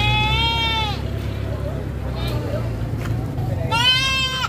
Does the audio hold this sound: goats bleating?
yes